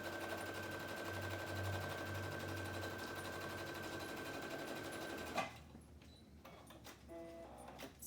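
A sewing machine stitches along the bottom edge of a fabric face mask, a steady rapid mechanical whir running for several seconds before stopping abruptly, followed by faint handling clicks and rustles.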